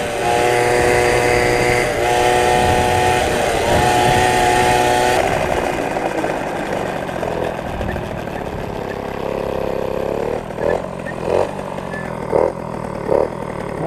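A moped with its original piston, a tuned exhaust and advanced ignition timing revs hard in a loud, sustained, buzzing drone. It then drops back and gives several short throttle blips.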